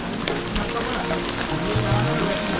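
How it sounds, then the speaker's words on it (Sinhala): Heavy rain pours steadily outdoors near a lake-style fishing spot, a dense, loud, unbroken hiss of water hitting surfaces throughout. "මහා වැස්සක්"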